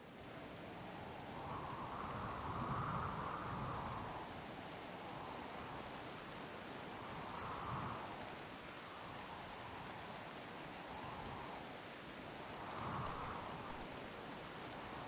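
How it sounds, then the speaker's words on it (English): Constant heavy rain in the video game RimBorg: Odyssey, a steady soft hiss of downpour with gentle swells, fairly quiet and continuous with no talking. "It's been pissing it down constantly."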